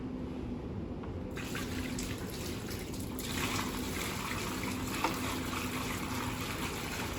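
Steady running water pours into the tray of a tile saw, a continuous trickling wash that brightens partway through and stays even throughout.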